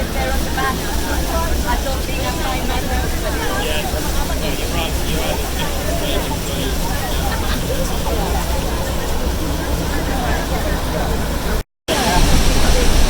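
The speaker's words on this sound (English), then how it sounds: "We are right up next to the falls." Niagara Falls waterfall thunders as a steady, loud, broadband roar from a tour boat right beside the falls, with a crowd's excited chatter and cheering mixed in and a brief dropout near the end.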